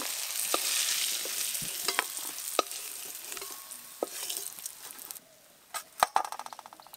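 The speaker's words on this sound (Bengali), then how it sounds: "খুব ভালো করে মাছগুলো কিন্তু ভাজতে হবে এই যে এরকম লাল লাল করে আমি যেরকম লাল লাল করে ভাজছি" Dried salted hilsa pieces fry in mustard oil in a pan, a soft continuous sizzle broken by scraping stirs and spatula knocks, with louder clatter near the end.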